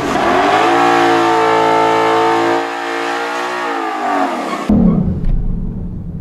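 A 2020 Ford Mustang GT500 on a drag test revs hard and close, its engine note climbing and holding high before falling off, then cutting to quieter background noise.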